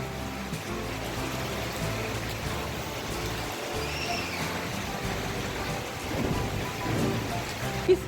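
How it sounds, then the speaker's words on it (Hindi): Heavy monsoon rain pours steadily onto rooftops and surfaces around a house, a dense continuous hiss with a low rumble swelling briefly near the end, and no voices. "बहुत तेज़ बारिश हो रही है"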